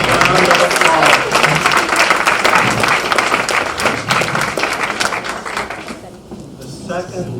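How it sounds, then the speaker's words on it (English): A room full of people at a chamber of commerce breakfast breaks into loud, dense applause that carries on for several seconds before tapering off, with voices mixed in underneath. "Give him a big round of applause."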